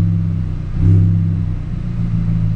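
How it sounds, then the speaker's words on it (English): An Audi fitted with a throttle controller revs as the gas is lightly pressed: a steady mid-pitched engine drone that swells briefly in a short rev, then settles back to idle, heard close with no talk. "So that's me barely pressing the gas."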